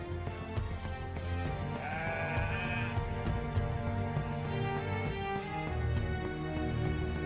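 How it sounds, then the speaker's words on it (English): A sheep in the animated Bible story of Moses as a shepherd in Midian gives a single wavering bleat, clear over continuous background music. "tending to his sheep"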